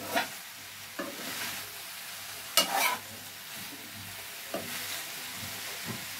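Chilli chicken ingredients are stirred together in a pan with a little oil, giving a continuous soft sizzle broken by a few sharp spoon scrapes and strokes.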